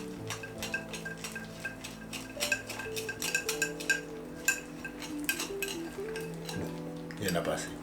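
Rice and water being stirred in a small thermos, a run of light clinking and scraping taps at an uneven pace, close and quiet, with a brief louder rustle near the end.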